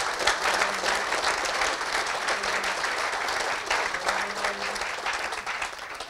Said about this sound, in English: can we have a, just a round of applause for each other and how you've dealt with this?